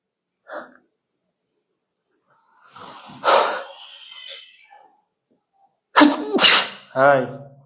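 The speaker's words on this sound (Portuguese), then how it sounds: "Ao vivo não dá nem para cortar os espirros." Several sneezes from a person during a live stream: a small one early, then a louder, breathy one, and finally two or three sharp, close sneezes in quick succession, with quiet gaps between them.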